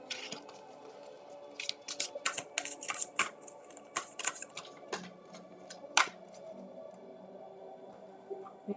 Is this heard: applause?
no